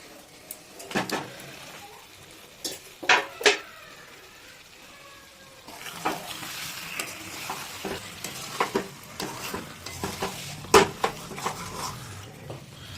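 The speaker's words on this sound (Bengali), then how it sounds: "এইবার এই ভেজে রাখা ডিম এটা এতে দিয়ে দেবো।" Fried eggs go into sizzling potato curry amid a low frying hiss, with sharp metal spoon-on-pan knocks and scrapes coming in bursts and a steadier sizzle in the second half, near and moderately quiet.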